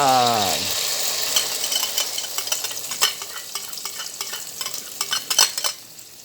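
Eggs fry in a hot pan with a bright, steady sizzle, broken by scraping and clinking of a spatula stirring, and a brief tonal sweep at the very start.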